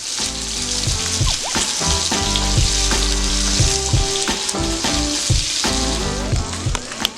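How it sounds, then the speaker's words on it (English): Steady crackling sizzle of chicken frying in hot oil, dense and continuous, with occasional brighter pops and faint clinks. "while my chicken is still frying"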